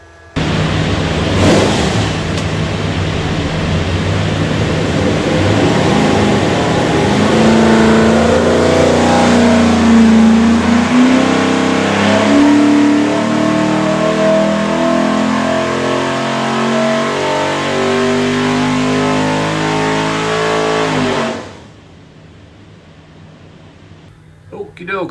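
A stack-injected 427 Ford V8 with Holley Terminator X fuel management runs on an engine dyno, its loud, steady roar climbing in pitch through a sustained pull for about twenty seconds before cutting off abruptly.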